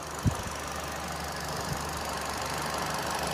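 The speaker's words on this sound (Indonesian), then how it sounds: "Dan ini untuk suara mesinnya" A 2011 Kia Picanto SE3 with automatic transmission idles steadily, a close, even engine hum with a single faint knock near the start and no talking.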